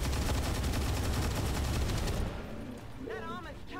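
Dense rapid gunfire from the Traverse Fire ability in XCOM 2 Long War, a loud continuous volley lasting about two seconds that cuts off abruptly, followed by quieter game sounds and a brief electronic warble.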